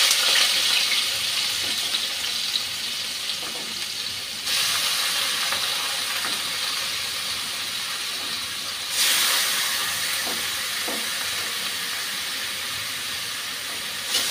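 Squash pieces frying with spices in a pan give a loud, continuous close hiss that swells and eases across the stretch, with no talk.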